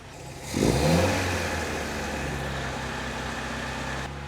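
A 1964 Triumph TR4 engine held at a steady fast idle around 2000 RPM during ignition tuning, rising with a brief rev near the start and then droning evenly and close for several seconds with no talk.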